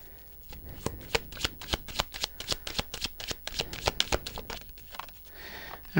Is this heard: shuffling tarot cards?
yes